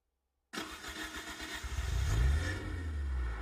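Car engine starting after silence, a cranking catch then a low rumbling idle that swells and settles, close and steady.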